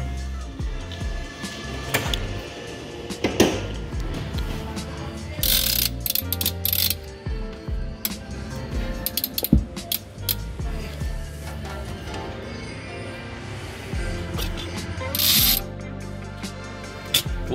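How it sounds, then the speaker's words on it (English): Ratcheting clicks from a wire winder pulling cutting wire through the urethane glue on a 2016 Ford Explorer windshield, with irregular mechanical clatter and bursts close by, occasional faint talk underneath. "You feed the wire around the outside of the glass, and this pulls the wire back from to the inside of the glass"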